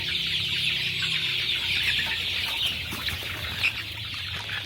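Joper chickens in a poultry shed, a continuous crowded mass of clucking and chirping with occasional wing flaps and a low hum underneath, close and fairly loud with no talking.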